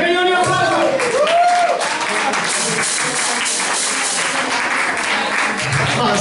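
An audience applauds a bass player at a live music gig in a pastry shop, a steady dense wash of clapping running throughout, with a brief sung or spoken tone near the start.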